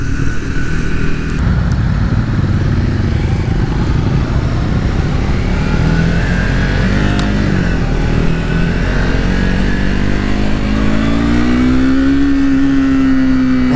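A 2024 Triumph Speed 400 motorcycle engine revs out on a ride, loud and close, its pitch climbing steadily through the gears over constant wind and road noise.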